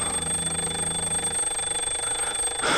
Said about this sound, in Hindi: तुमने अलार्म क्यों सेट किया?